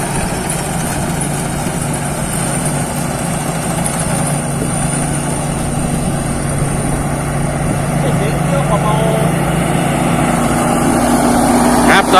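A Thai Seng Yont combine harvester runs in a rice field harvesting glutinous rice, its engine a loud, steady, unbroken drone that holds constant over twelve seconds with a faint voice occasionally beneath it.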